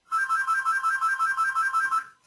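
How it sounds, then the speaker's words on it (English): A mobile phone ringtone plays alone as a rapid, steady electronic warble, a quick train of bright repeated pulses, loud and close, lasting about two seconds before cutting off. "My phone's going to tweet again if I don't turn it off"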